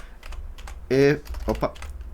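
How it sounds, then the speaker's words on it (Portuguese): Keys clatter on a computer keyboard while someone types a search about the Epistle to the Ephesians into an AI tool, in short bursts of close, crisp clicks with a louder burst of voice in the middle. "Opa, estou digitando errado."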